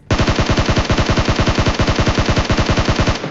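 A SCAR assault rifle fires in PUBG, one loud, close, sustained automatic burst of rapid evenly spaced shots lasting about three seconds, with no talk.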